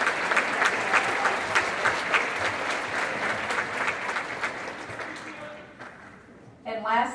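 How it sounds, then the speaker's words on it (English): A banquet crowd at a chamber of commerce economic development dinner gives a big round of applause, with sustained, full clapping that slowly thins out and gives way to a brief voice at the very end. "So please give this wonderful group a big round of applause"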